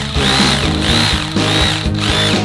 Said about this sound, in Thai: ต่อมาผมก็จะเจาะพื้นนะครับเพื่อฝังปุ๊กลงไปในพื้นเลยนะครับ